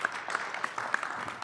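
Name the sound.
applause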